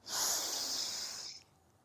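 One long, deep breath drawn in through the nose, loud and close, lasting just over a second before fading out.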